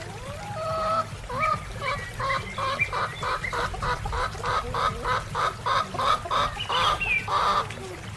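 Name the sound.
chicken clucking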